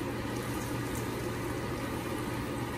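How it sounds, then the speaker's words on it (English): Mung bean sprouts blanching in a pot of boiling water give a steady, low bubbling churn, continuous and fairly quiet, with no voices. "After po niyan ay i-blanch po natin siya sa boiling water ng 5 to 10 minutes."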